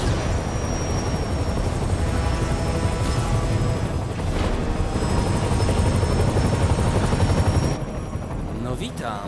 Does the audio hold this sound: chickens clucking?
no